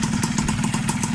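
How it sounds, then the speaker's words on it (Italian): A tuned moped with a Malossi kit runs in a garage, its small engine buzzing at fast, steady revs with a rapid pulsing beat, close and alone. "questi sono i giri che fa il motorino."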